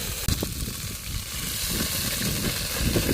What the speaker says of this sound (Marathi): वाटण आपल्याला चांगलं परतून घ्यायचं आहे